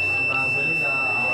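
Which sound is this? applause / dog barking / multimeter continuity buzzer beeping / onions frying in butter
multimeter continuity buzzer beeping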